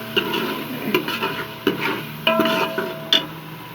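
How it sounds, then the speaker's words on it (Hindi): Masala with tomato paste frying in a pan while being stirred: a low sizzle under repeated scraping and clinking strokes of a spoon against the cookware, close and uneven. "अब मसाले को अच्छी तरह से भून लूँगी।"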